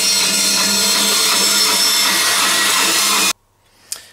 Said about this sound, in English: I'm going to cut these out now on my bandsaw.